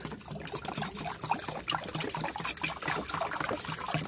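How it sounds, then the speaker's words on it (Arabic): Water is poured from a jerrycan on a rooftop in hot weather, a steady close trickle and splash running for the whole stretch without talk. "وندخل بقى ندلق منه."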